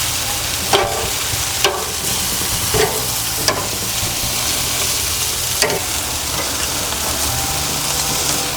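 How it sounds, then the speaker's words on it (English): Ribs marinated in Italian salad dressing sizzling on a gas grill, a loud steady close hiss and crackle with several sharp clicks and taps from handling the meat scattered throughout. "now we grill"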